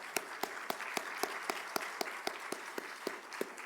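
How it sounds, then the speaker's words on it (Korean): A church congregation at Sunday worship claps to welcome a missionary, a soft, fairly sparse round of applause with a regular, rhythmic beat of louder claps, faint and somewhat distant. "우리 환영의 박수 같이 드리겠습니다."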